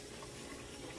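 Tap water runs steadily into a small pot being filled for tea, a continuous soft splashing rush with no other sounds.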